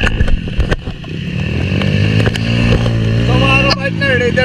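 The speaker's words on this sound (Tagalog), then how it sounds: "Ito na yung Raider na ginawang underbone. Raider 150 pa ito, ginawang underbone." Engine of a Raider 150 motorcycle converted to an underbone, humming and rising in pitch close by, with rev changes, some clicks and sharp transients, and voices heard over it.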